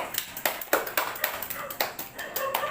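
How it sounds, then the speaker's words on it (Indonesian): Primary school students in a classroom clap for themselves in a quick, uneven patter of separate sharp claps, close and fairly loud. "Ayo berikan tepuk tangan untuk diri kalian masing-masing."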